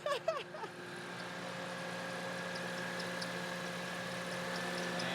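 A Toyota Matrix with a dying engine gets a brief, sputtering attempt to start at the very beginning, then settles into a steady low mechanical hum and droning tone that continues evenly to the end.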